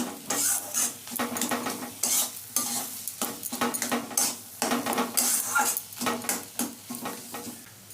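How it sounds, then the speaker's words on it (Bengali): Potato filling with chopped coriander, salt and a little sugar fries in a pan as a spoon stirs it in rhythmic scraping strokes over a constant close sizzle, loud and continuous with brief pauses between strokes. "এইবার ভালো করে এটা ভেজে নেব আলুটা"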